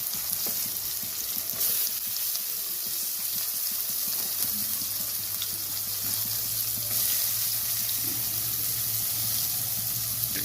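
Onion and garlic paste frying with prawns and curry leaves in a pan, a steady close sizzle with occasional stirring scrapes, with no voices.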